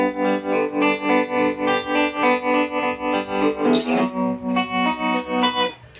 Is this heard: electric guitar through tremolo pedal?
yes